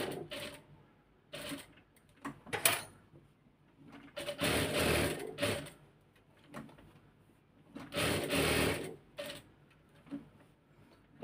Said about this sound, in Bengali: মেশিনে সেলাই করে এখন দেখিয়ে দিব।